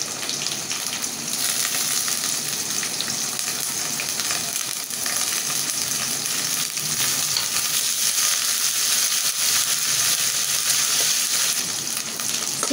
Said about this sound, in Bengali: এখন আমি পেঁয়াজ মরিচের সাথে চিংড়ি মাছ কয়টা ভাজিয়ে নেব